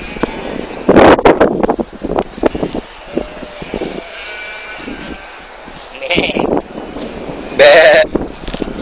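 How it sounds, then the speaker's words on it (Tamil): Sheep at a camel market bleat in several loud, close bursts, separated by quieter stretches of wind buffeting the microphone and faint background voices. "நீங்கள் அடுத்ததாக காண இருப்பது செம்மறியாடு."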